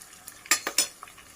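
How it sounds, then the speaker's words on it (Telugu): Spices are stirred into mutton pickle in a pan: three quick metallic scrapes close together, then a faint clink, over a quiet hiss. "ఒకసారి కలుపుకుందాం"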